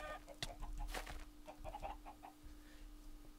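Chickens in the Minecraft Mineplex minigame Bawk Bawk Battles cluck in quick, short repeated bursts, faint but clear over a low steady hum.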